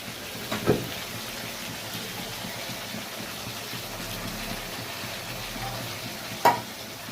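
Papaya, potato and chickpea curry cooking down in oil and spices in a pan, a steady soft sizzle running throughout, with two sharp knocks of a spoon against the pan near the start and end.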